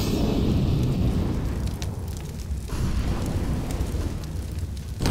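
A grenade in the game CS:GO detonates with a loud, sustained low rumbling boom that rolls on for several seconds, with crackling debris and a second surge near the end.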